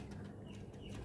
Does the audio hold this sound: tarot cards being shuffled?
no